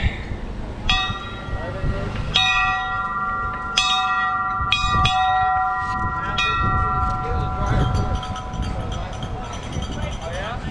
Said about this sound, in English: don't know if I'll ever ring that bell again.